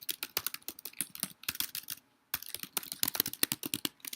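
Rapid typing of Java code on a computer keyboard, close and clear, with quick bursts of key clicks, one short pause, then more typing.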